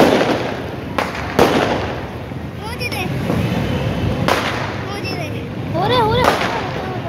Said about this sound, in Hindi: तो देखा बाहर यहाँ पे आतिशबाजी शुरू हो गई थी